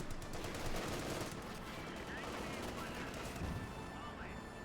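Company of Heroes 2 battle gunfire from an M1 anti-tank unit and infantry, a faint, quick crackle of distant shots and bursts under a commentator's voice.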